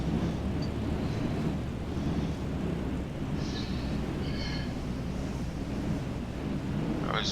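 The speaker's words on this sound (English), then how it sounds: "It's a bit windy out there, looks like." Steady wind rushes around a small aircraft in Microsoft Flight Simulator 2020, a continuous broad hiss with faint brief tones over it and no talking.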